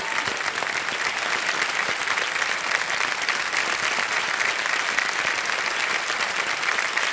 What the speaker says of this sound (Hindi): आप तालियां बज जाएं इनके लिए